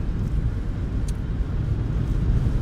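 Car driving along, a steady low engine and road rumble that holds constant throughout, fairly loud, with no talk over it.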